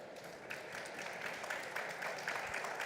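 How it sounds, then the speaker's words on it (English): A conference audience at a computing event keeps up steady, warm applause for three seconds. The clapping is dense and sounds at a moderate distance, with no voices above it. "Warm applause."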